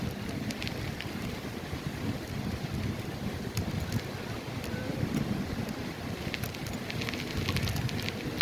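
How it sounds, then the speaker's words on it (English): Steady broadband wind rushing over the microphone at a beach, loud and continuous, with faint clicks and rustles scattered throughout and no talking. "And the wind is heavenly too."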